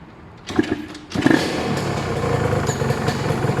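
A Yamaha TZR 150 two-stroke motorcycle with a weak battery, whose engine catches after a brief crank and settles into a loud, steady, close running note.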